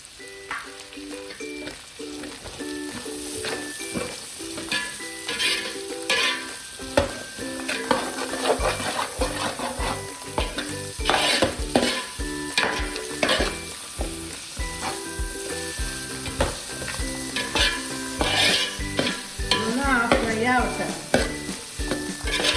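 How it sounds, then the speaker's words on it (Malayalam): Sliced onions fry with a spoonful of salt in a pan for Kerala-style fish mappas, a steady sizzle punctuated by frequent clinks and scrapes of a spoon stirring against the pan, with no talking. "ഇത് നമുക്ക് അരിഞ്ഞു വെച്ചിരിക്കുന്ന സവാള ചേർക്കാം"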